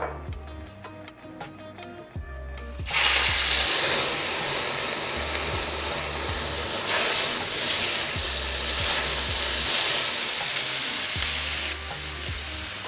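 Steak fajitas sizzle in a hot, smoky pan with extra virgin olive oil, a loud steady frying hiss that bursts up after a quiet start and continues evenly throughout.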